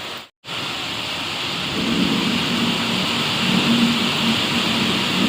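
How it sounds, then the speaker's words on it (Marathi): Heavy rain pours steadily with a deep rumble of thunder swelling beneath it, loud and close. "पाऊस बापरे"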